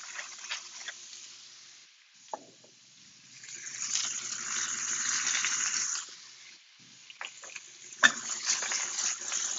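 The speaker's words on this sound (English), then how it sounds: "Give it a little stir." Butter, mushrooms and scallions stirred in a pan, with a soft sizzle and scraping of the utensil in short bursts, quiet pauses between, and no talking.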